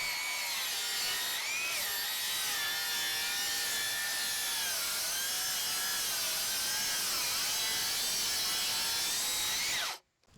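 A Ridgid Octane circular saw cuts through treated 6x6 lumber with a loud, sustained whining buzz that wavers in pitch as the blade bogs and recovers, then stops abruptly near the end; no talking.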